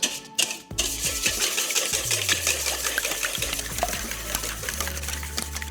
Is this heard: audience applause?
no